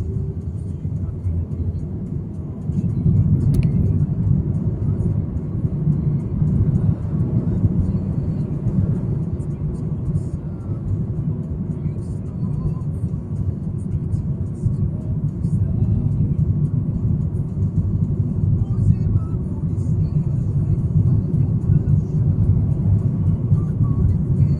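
A car engine drones steadily as the vehicle picks up speed on a driving-exam route in Khabarovsk, a loud, even rumble from inside the cabin that continues unbroken.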